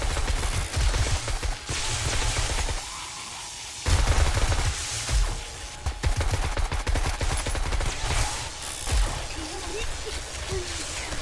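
Gunfire in the 7 Days to Die Darkness Falls mod during a horde base defense in Central Park, rapid overlapping shots and bursts running almost continuously, close and loud.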